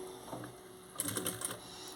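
A sewing machine stitches a locking seam while an invisible zipper is attached, heard as a brief, faint run of rapid mechanical clatter after a quiet lead-in, with no talk.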